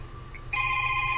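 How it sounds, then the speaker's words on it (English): A phone ringtone suddenly starts after a short quiet stretch, a bright, steady electronic tone ringing loudly and continuously to the end. "Well, okay, I guess that's my ringtone."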